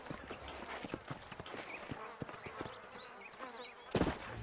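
Horse hooves clip-clopping in the Red Dead Redemption video game, a steady quick rhythm of soft thuds over an outdoor ambience with faint insect buzzing and a louder knock near the end.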